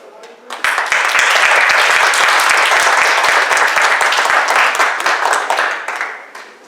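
Sustained audience applause fills a meeting room after a speech, a dense, loud wash of clapping that swells within the first second and holds steady before tapering slightly.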